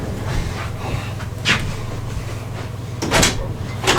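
An indoor door handled for a visitor, with two muffled thumps and rattles about a second and a half apart over a low steady hum, no talking.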